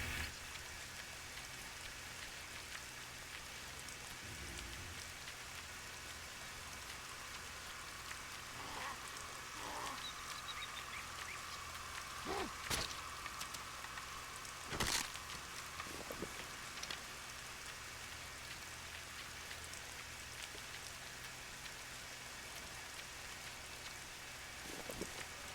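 Steady rain patters across the whole stretch in the video game One Shot Escape, a soft even hiss with a few sharper clicks and thumps breaking through near the middle.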